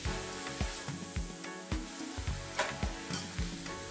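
Cabbage sizzles in a hot pan over high heat while being stir-fried for seafood pancit sotanghon, with a steady fry hiss broken by regular soft thuds and scrapes from the tossing.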